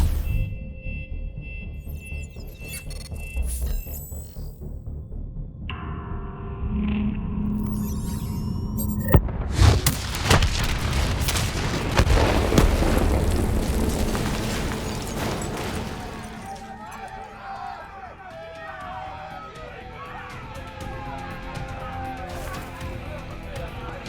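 An explosion is detonated in the video game Call of Duty Black Ops III: a sudden loud blast partway through swells into a heavy rolling rumble, surrounded by game sounds and voices.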